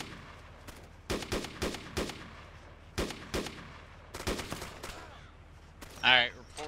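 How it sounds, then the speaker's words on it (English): Gunfire and machine gun bursts in a war video game beach assault, sharp separate shots and short rattling volleys spaced irregularly at moderate distance, ending with a brief tonal whine. "Get down, we're taking fire!"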